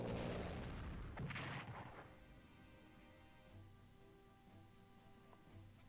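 Bombing raid explosions in the WWII strategy game Strategic Command, a couple of heavy booming blasts up front that fade into a low rumbling tail, faint and distant overall with no talk.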